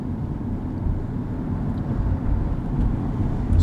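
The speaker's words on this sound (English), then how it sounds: "The fan makes quite a noise." A car's interior fan blows steadily during a winter drive on a Toronto city street, a continuous low broadband rush mixed with road and engine rumble, close and constant with no talking.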